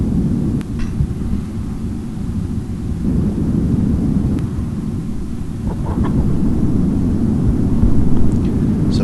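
Rocket engine thrust in Kerbal Space Program 2 makes a steady, dense low rumble that holds for several seconds, with faint crackles above it and a slight swell toward the end.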